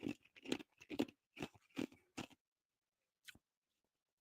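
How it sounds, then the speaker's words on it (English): Ice being crunched in the mouth right at the microphone, a run of loud close bites and chews in quick succession, then a pause and a couple of isolated crunches near the end. "Sorry for crunching on ice in the microphone"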